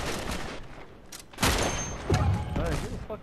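Gunfire in the online multiplayer shooter Uncharted 3, sharp bursts of shots and thuds mixed among game effects, with a player talking over the action.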